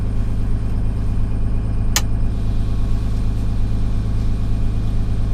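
A truck engine runs at a steady fast idle of about 1,000 RPM, a continuous low rumble that stays even throughout, with one brief sharp hiss or click partway through.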